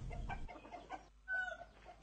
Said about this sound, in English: He keeps 60 chickens at home.